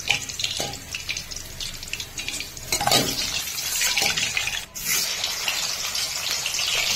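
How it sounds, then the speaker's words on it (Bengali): Ritha fish fry in hot oil in a pan after being flipped, giving a continuous loud, close sizzling hiss with crackling spikes and no talking. "এক পিঠ ভাজা হয়ে গেছে, আমি আরেক পিঠ উল্টে দিলাম।"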